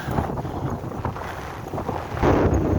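Strong wind buffets the microphone while riding into a headwind in the rain, a loud, continuous low roar with gusty surges that grow heavier toward the end.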